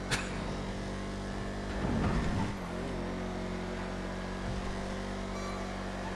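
Race cars in the video game GTA FiveM drone with steady engine noise, a brief louder surge of revving near the middle, then settle back into a continuous, moderately loud hum.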